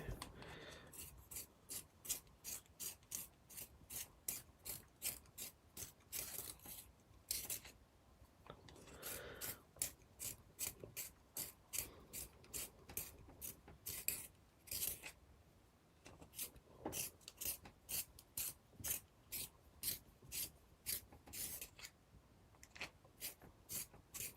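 Pencil point being turned in a hand sharpener during a journaling session, a long run of quick, evenly spaced scraping strokes with a few brief pauses, close and fairly quiet.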